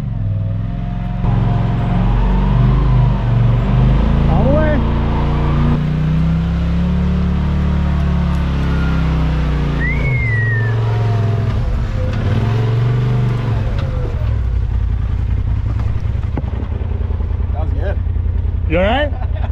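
An off-road vehicle's engine rumbles and revs as it climbs a rocky trail obstacle, a loud, close, continuous drone with rising and falling throttle, while people talk over it.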